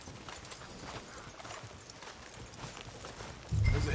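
Horse hooves clip-clop steadily in a video game street scene, moderately close and unaccompanied by talk.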